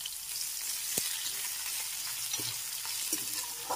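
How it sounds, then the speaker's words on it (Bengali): Vegetable stems with grated ginger frying and being stirred in a pan, a steady close sizzle with occasional scrapes of the stirring utensil, no voices. "একটু ডাঁটা নেড়ে ফিরে নিচ্ছি, সাথে দিয়ে দিচ্ছি গ্রেট করা আদা।"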